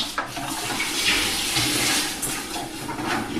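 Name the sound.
hot brass cartridge dunked in water to cool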